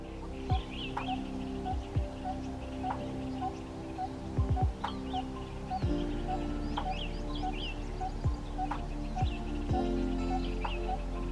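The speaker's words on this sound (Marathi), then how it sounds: "पक्षी बाजूच्या झाडावर येऊन बसलाय आणि त्याचा आवाज ऐकू येतोय." A coppersmith barbet perched in a nearby tree gives its monotonous series of hollow, metallic 'tuk' notes, evenly spaced and repeated over a steady hum with faint other bird calls.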